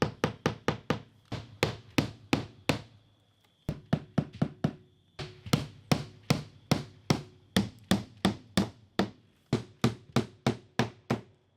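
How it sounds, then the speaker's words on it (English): Nails driven with a hammer into a vinyl siding J channel on the gable end of a 20x30 workshop, sharp knocks in rapid bursts of repeated strikes with brief pauses between nails, close and loud with no talking. "I'm going to go ahead and put a couple of nails in here"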